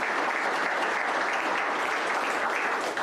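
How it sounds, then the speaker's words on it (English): An audience at a Montgomery County State of the County event gives a sustained round of applause, with dense, even clapping from a large crowd throughout. "So we could give everybody a round of applause for a nice crowd that we have."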